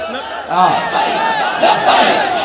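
A large crowd chants religious slogans in unison at a religious gathering, loud rhythmic massed voices surging in repeated phrases with slight pauses between calls.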